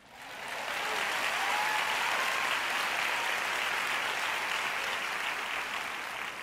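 A church congregation bursts into applause, a dense, even wash of clapping that swells quickly and holds steady for several seconds with no voices.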